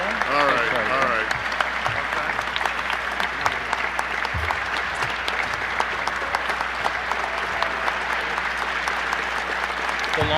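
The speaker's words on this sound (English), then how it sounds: "The longest applause." Long, steady applause from guests at an annual gala dinner, a dense wash of clapping sustained throughout, with voices and brief talk faintly mixed in at the start.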